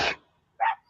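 A dog gives two short, sharp barks separated by a brief pause, fairly close and clear against a quiet background, with the start of a third at the very end.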